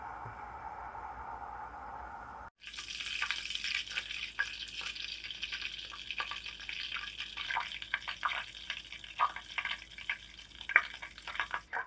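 Foam being skimmed off simmering homemade desi ghee with a slotted spoon, a soft steady bubbling sizzle broken by light scraping clicks, preceded by a brief quieter hum before the cooking sound starts.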